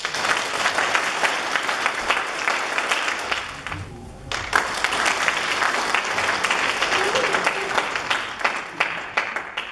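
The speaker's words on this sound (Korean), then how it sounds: "박수 한번 주십시오" An audience at a security lecture applauds a retired general in a hall, with loud, sustained clapping that briefly dips around the middle and then swells back, continuing to the end.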